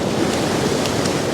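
Waves crash and splash onto the shore right beside the camera, a loud, dense, continuous wash of water and spray, with no voices.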